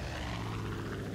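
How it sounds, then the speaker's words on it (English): An airplane drones steadily overhead in the video game Far Cry 5, a continuous low engine rumble filling the short moment, with no talking. "I get nervous every time I hear a plane."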